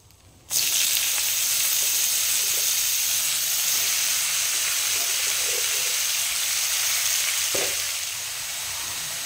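Chopped bottle gourd hits hot oil tempered with radhuni and dried red chillies for a prawn curry, setting off a sudden loud sizzle that holds steady and close before easing slightly near the end.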